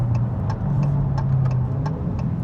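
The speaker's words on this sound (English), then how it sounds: "you can even hear the intakes just working on this thing." A Dodge Challenger in sport mode, its engine running with a steady low rumble and the intakes audibly working, close and loud with a few sharp mechanical ticks on top.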